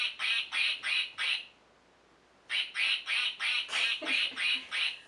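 A toy or recorded duck quacks in rapid rhythmic bursts, four quacks, a pause, then a longer run of about eight evenly spaced, bright, nasal calls close by.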